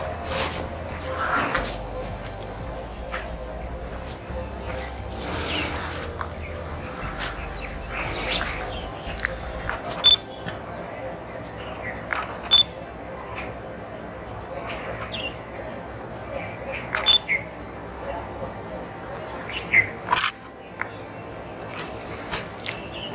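Brief, high bird chirps sound outdoors, scattered sparsely through the second half. A low background murmur and some light knocking and rustling sit underneath.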